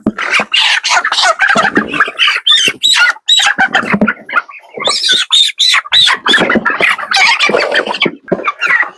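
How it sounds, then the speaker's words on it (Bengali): Broiler chickens, about 28 days old, squawk and cackle loudly in a poultry shed as they are grabbed by hand, a dense, frantic burst of overlapping shrieks and flapping that barely pauses. "আমরা এভারেজে মুরগিগুলো ধরবো"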